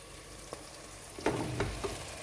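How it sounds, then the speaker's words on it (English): Peppers dropped into a pan of nearly melted tomatoes for chicken jalfrezi, a steady close sizzle with a few soft stirring clatters and bursts of louder frying toward the end. "So what I'm going to do now is put in the peppers over here"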